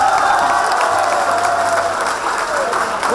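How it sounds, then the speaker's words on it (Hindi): Audience applause at a farewell event fills the whole stretch, a dense steady wash of many hands clapping with some crowd noise underneath. "एक बार ताली तो बजाओ इनके लिए"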